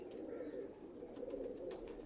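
A male pigeon of a rare breed coos in a low, continuous, soft rumble that holds steady across the short stretch with no one speaking.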